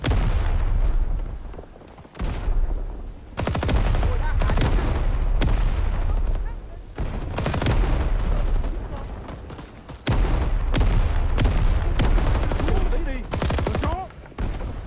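.30 cal machine gun firing in Rising Storm 2, a Vietnam War shooter, in long loud sustained bursts separated by brief pauses, with a voice talking over the gunfire at times.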